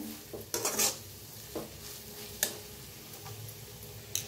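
Masala spices being roasted and stirred in a pan for a potato usal curry, with scattered scrapes and clinks of a spoon against the pan over a faint background, quiet and close.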